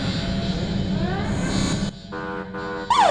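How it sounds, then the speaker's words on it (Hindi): An alarm sounds in a comedy film: a loud, steady rumbling drone gives way to a harsh electronic buzzing tone, interrupted briefly, then returns with a rising siren-like sweep at the end. "अलार्म हो गया।"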